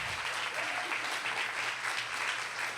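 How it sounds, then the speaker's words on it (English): Applause from an audience honoring the July 2019 Digital Arts & Design graduating class at a university showcase, a dense, steady wash of many hands clapping throughout. "one more round of applause for the July 2019 DAD graduating class"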